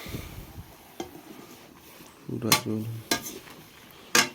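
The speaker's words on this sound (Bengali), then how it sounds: "একটু নেড়ে দিই।" Potato and chickpea curry being stirred in a pan, a few sharp metallic scrapes and clinks of a spoon against the vessel with a soft background hiss, one spell of ringing scrapes and scattered taps.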